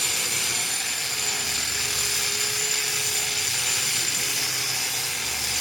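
A grinder running continuously, a steady high-pitched whine with a dense, hissy buzz, constant in loudness and unbroken throughout, with a faint lower tone wavering briefly in the middle and no talk.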